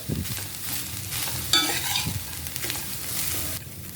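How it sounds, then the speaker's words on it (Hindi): Freshly grated coconut from a large nut roasting in a pan over medium heat, a steady dry sizzle with scraping stirring strokes, close and fairly loud throughout, without speech. "तो हम यहाँ पे इसे करीबन 3 मिनट तक अच्छे से भूनेंगे।"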